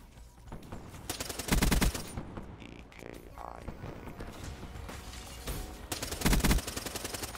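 Bursts of gunfire in the video game Black Ops 3 during a team deathmatch, with two loud rapid volleys several seconds apart and quieter scattered shots and game noise between them.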